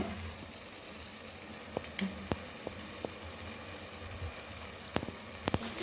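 Coriander leaves and ginger paste frying for mushroom biryani, a low steady sizzle with a few sharp clicks and pops near the end.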